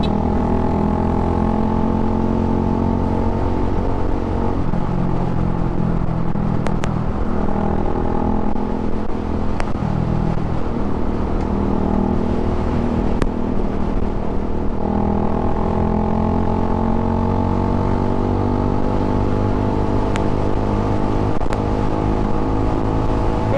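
A Suzuki Gixxer 155fi motorcycle engine revs loudly and close, its pitch climbing and falling in repeated sustained pulls with no talking.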